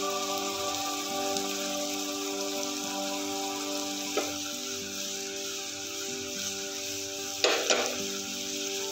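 Curry leaves sizzle in hot oil as they are tossed with cauliflower for Cauliflower 65: a steady frying hiss throughout, with a couple of brief louder crackles near the end, no talking.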